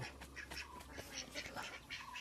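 A duck quacks in quick, repeated bursts while circling near a cage where a hen has laid eggs, the calls faint but steady throughout.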